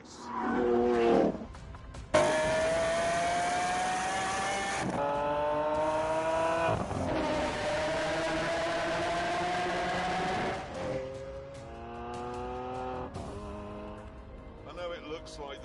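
Supercar engines rev and howl on a scenic road in The Grand Tour Game on PS4, their pitch climbing through gears in long sweeps. Sharp shifts and cuts break up the sound, which stays close and prominent throughout.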